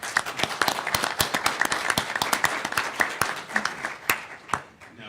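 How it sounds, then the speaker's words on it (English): Audience applause at a community summit on homelessness, a burst of sharp individual claps from a modest crowd, loud at first then thinning and tapering off toward the end. "How about a round of applause?"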